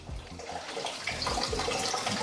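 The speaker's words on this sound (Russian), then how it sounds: "И очень быстро и удобно наполнить водой большие аквариумы." Tap water rushing from a 15-metre garden hose into a large aquarium, a steady, close, full splashing gush that continues without pause and with no voices.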